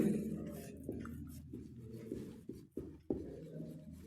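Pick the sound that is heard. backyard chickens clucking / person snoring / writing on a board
writing on a board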